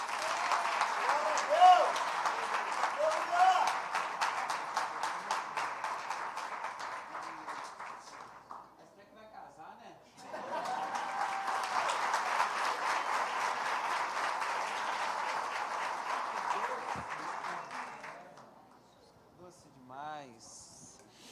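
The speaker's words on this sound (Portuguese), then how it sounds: "Vamos aplaudir." Congregation applauding in a church after a child's presentation and blessing, a broad wash of clapping in two long bursts with a short lull between, fading out at the end.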